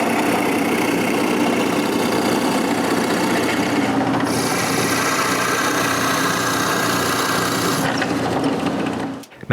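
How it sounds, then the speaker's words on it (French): A drill bores two holes into a walnut clock frame support, giving a loud continuous grinding whir that runs almost the whole time with a short shift near four seconds and a stop at the end, close by with no talking. "je m'assure là, que c'est bien droit avec la mèche et je perce 2 trous sur chaque bout"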